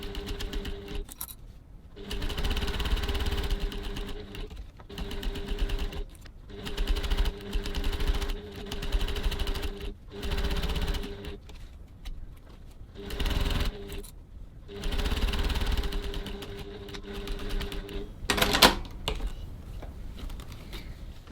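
A sewing machine stitches a bag pocket at a 3.5 stitch length, running in steady buzzing bursts of a few seconds each, separated by short pauses, fairly close and alone, with light handling clicks near the end.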